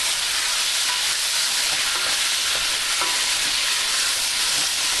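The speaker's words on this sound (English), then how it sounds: "I want to add my garlic and my ginger into the pan and start moving that around" Garlic and ginger fry in a hot pan with a steady, dense sizzle that fills the whole stretch, with faint scrapes as they are moved around. No one speaks.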